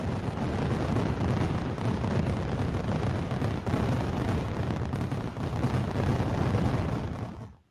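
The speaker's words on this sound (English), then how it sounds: "Let's close with fireworks and a little bit of music." Fireworks closing a medical innovation awards event, a dense continuous barrage of booming bursts and crackles, loud and steady for several seconds before cutting off.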